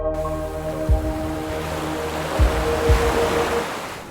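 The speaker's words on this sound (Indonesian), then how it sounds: "Suara ombak dan angin." Ocean waves with wind roll in a steady broadband wash, a few low thumps of surf breaking at intervals over a continuous roar, alongside faint tonal background hum.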